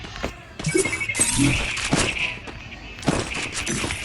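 Tommy gun firing in Free Fire, with bursts of rapid gunshots, clinking metallic hits and game effects, loud and close, separated by brief pauses.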